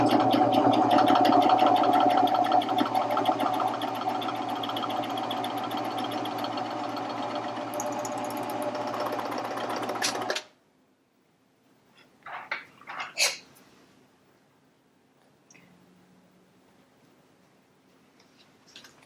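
A Baby Lock Vibrant serger stitching a small floor patch runs as a loud, steady mechanical whir for about ten seconds, then stops abruptly, followed by faint handling clicks and rustles.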